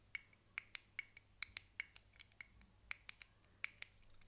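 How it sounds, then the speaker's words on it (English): Crisp clicks from buttons on a fidget toy, about twenty sharp separate taps in an uneven quick rhythm, close and fairly quiet against a faint background hum, with no talking. "You can even hear the difference between clicking noises."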